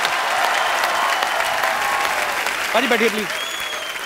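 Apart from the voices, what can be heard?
studio audience applause on a comedy show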